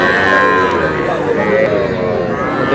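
Small young cattle calves at an Aftabganj livestock market low repeatedly and loudly close by, their moos layered over background voices and market bustle.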